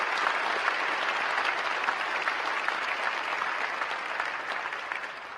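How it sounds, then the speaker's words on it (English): Audience applause fills a civic State of the City address, a dense, steady clapping from a large crowd that holds loud and even throughout before easing slightly at the end. "please join me in giving them a huge round of applause"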